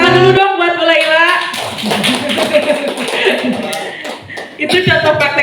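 A group applauds for a teacher at a school staff session on positive school culture; scattered clapping and light laughter run for several seconds beneath ongoing talk and chatter.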